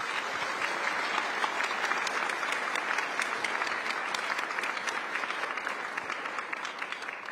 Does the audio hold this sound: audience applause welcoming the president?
yes